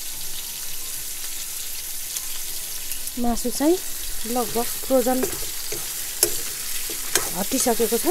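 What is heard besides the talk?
meat frying and sizzling in a pan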